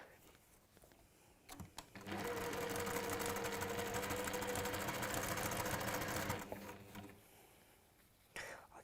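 A sewing machine stitches fabric in one steady run of rapid mechanical whirring lasting several seconds, preceded and followed by quieter handling noises.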